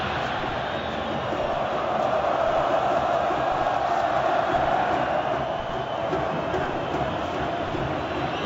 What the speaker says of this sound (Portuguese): Era um grito de olé que ensaiava a torcida do Cruzeiro.